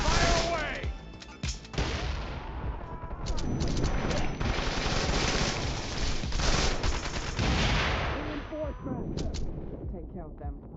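Video game combat erupts in sustained, heavy gunfire, overlapping bursts and explosive booms roaring loudly for several seconds before tapering off, with voices shouting amid the battle.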